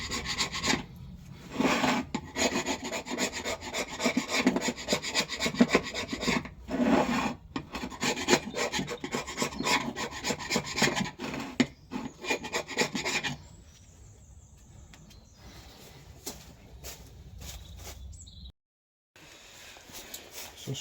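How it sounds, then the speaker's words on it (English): An old blunt chisel scrapes a worn gasket off a 1913 Richard Hornsby portable engine's fuel tank, giving repeated close, harsh rasping strokes for about thirteen seconds before quieter handling sounds follow. "I'll just use an old blunt chisel."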